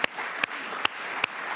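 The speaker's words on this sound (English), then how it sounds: "I just want to give them a round of applause." A council chamber crowd applauds the police department, a steady patter of many hands clapping indoors, broken by a few sharp louder claps at regular intervals.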